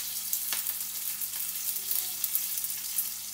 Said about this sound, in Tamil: பாருங்க, கடுகு வெடிச்சிடுச்சு.